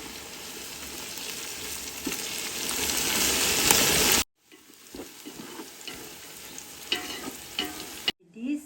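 Onions and masala fry in a pan with a loud, crackling sizzle and occasional stirring scrapes. The sizzle cuts out sharply partway, then returns as softer frying with clinks and a brief burst at the end.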